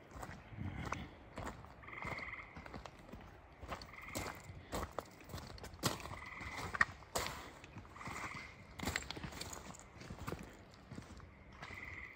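Frogs croak through the night along an abandoned, unmaintained road, a dense repeating chorus at moderate distance mixed with footsteps crunching on the ground.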